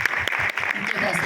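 Audience applause at a film trailer launch, a dense spread of clapping that fills the short moment steadily and fairly close.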